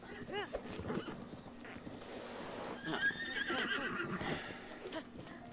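A horse whinnies and neighs in Breath of the Wild, with hoof clip-clops and someone talking over it, the calls repeating across several seconds.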